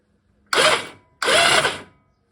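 BSA Fury SS motorcycle engine spun over with the plugs out and the oil pump worm drive turning: two loud, close mechanical whirring bursts of about half a second each, separated by a short pause.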